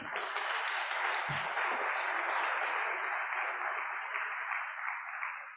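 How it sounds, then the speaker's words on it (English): An audience applauds students at a panel event, a continuous wash of clapping that holds evenly and then thins and softens toward the end. "Let's give our students another round of applause."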